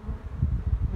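Honeybees buzzing densely at a hive entrance as guard bees defend it against robbing, a steady close-up drone with pulsing swells throughout.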